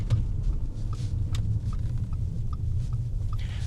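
Audi S5 engine running while parked in a lay-by: a steady low rumble at idle, fairly close, with no talk over it.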